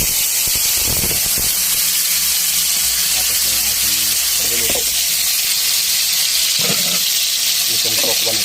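Tofu frying in hot oil in a pan, a loud, constant sizzle and crackle with occasional bursts of spattering, heard up close throughout.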